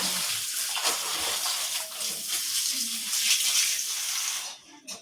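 Bhambordi leaves being washed in water, rinsed two or three times before cooking popti, with steady splashing and swishing of water close by throughout.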